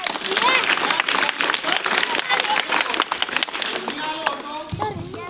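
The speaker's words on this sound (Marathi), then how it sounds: "पुन्हा टाळ्या वाजवा" An audience claps at a live gathering, a dense steady patter of many hands that carries on for several seconds with crowd voices mixed in, then thins out near the end.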